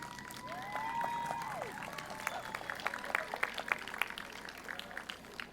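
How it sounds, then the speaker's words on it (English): An audience at a 2021 high school commencement claps and cheers for graduates' parents, teachers and families, a steady broad patter with scattered individual claps standing out and some voices rising over it. "Class of 2021, I would like to invite you to applaud your parents, teachers, and families for their hard work and dedication."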